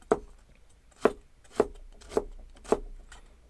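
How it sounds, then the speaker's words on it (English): A knife chops carrots into julienne on a cutting board, five distinct, evenly spaced cuts landing about every half second with crisp taps against the board in a quiet room. "and then cutting into julienne"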